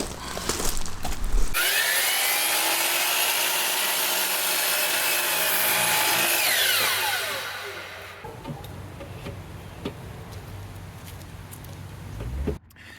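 A saw cuts through pressure treated lumber for a sill plate, a long steady rasping stroke that runs close and loud, then stops, leaving quieter handling noise and a final knock.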